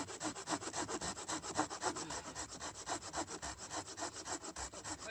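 Hand saw cutting through wood outdoors in even back-and-forth strokes, a steady rasping rhythm heard close and fairly quiet.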